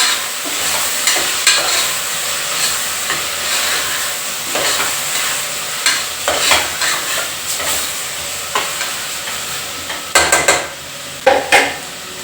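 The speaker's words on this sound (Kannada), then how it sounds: "ಚೆನ್ನಾಗಿ ಮಿಕ್ಸ್ ಮಾಡುವ" Pulao with field beans and soybeans is stirred and fried in a pan, a steady close sizzle broken by repeated scrapes and clinks of a spoon against the metal, loud and with no voices.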